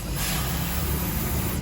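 KOBY chain cleaner sprayed onto a motorcycle chain gives a steady, close, broadband hiss that holds evenly for under two seconds with no pause.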